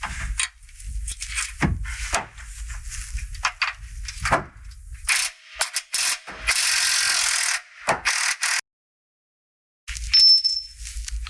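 A ratchet wrench undoes the lower shock absorber bolt on a RAM Power Wagon, a close, loud series of quick clicking bursts with pauses between pulls, one longer sustained run, and a brief silence near the end.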